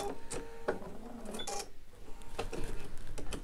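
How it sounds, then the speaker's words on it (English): A Bernina sewing machine quilts fabric held in a clamp hoop, giving a close, fairly quiet mechanical clatter with quick ticks and faint whirring throughout. "what I'm doing is I'm actually quilting in the hoop"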